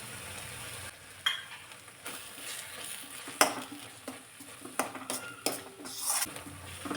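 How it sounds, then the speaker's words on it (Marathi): Taro leaf vegetable stir-fried in oil in a pan, scraping spoon strokes and clinks against the metal over a low sizzle, coming in irregular bursts at close range. "तेल सुटेपर्यंत परतून घ्यायचे"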